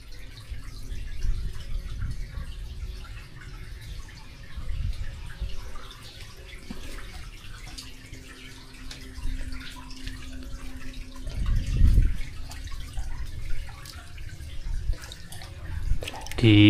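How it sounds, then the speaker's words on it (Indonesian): Small underground river flowing inside a cave, a steady low wash of running water with faint drips, some brief rustles and a louder splash near the end. "Di dalam gua ini ada aliran sungai kecil."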